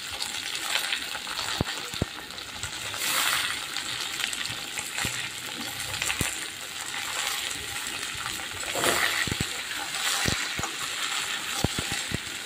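Mixed vegetables with jackfruit seeds sizzle and fry in a pan while a spatula scrapes and stirs, giving repeated metallic clicks and knocks over a constant hiss.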